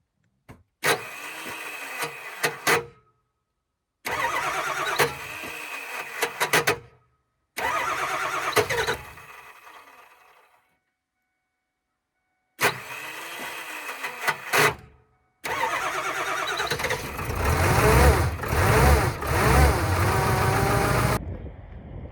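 A Ford F-250 with the 7.3 Powerstroke diesel cranks on a failing starter in cold weather, four separate whirring crank attempts followed by a longer, louder rumbling burst as the engine catches and runs.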